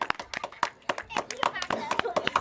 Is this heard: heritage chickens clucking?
no